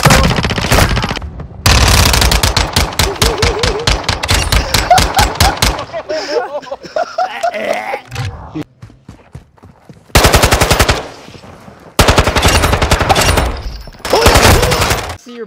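Dense, loud bursts of rapid machine gun fire in the video game Modern Warfare 2 rattle in long strings, broken by a short lull where voices and game sounds come through before the firing resumes.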